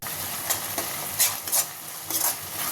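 Chilli powder is mixed into an egg and mixed vegetable curry frying in a pan, with a constant sizzle punctuated by four or five sharp spoon scrapes against the pan, close and clear.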